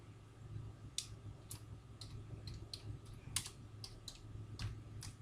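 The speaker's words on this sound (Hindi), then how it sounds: "एक लाइन टाइप करते हैं," A single line typed on a computer keyboard: scattered, light key clicks at an uneven pace over a steady low hum, fairly close and soft, with no talking.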